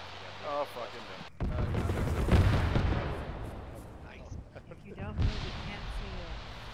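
Booming autocannon fire from a BMP armored vehicle in a military video game, a heavy sustained rumble followed by a later burst, with voices talking over radio around it.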